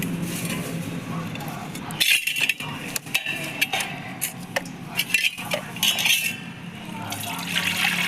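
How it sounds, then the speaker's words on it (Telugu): Water is poured off from a pot after cleaning goat tripe in a kitchen, splashing and trickling in uneven bursts close by, with light clinks of metal utensils and occasional speech. "ఈ వాటర్ని అయితే తీసి పారేసుకుంటాను"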